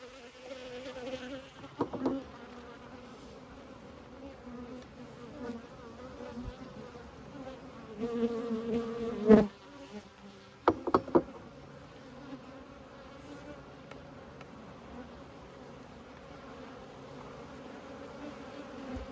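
Honeybees buzz around an open hive while frames are lifted during a hive inspection, a steady low hum throughout with a few brief louder bursts as bees pass close.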